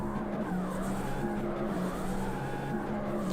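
Car drifting in CarX Street, a steady, loud tire squeal and skid with wavering pitch over a constant engine drone, close and continuous without a break.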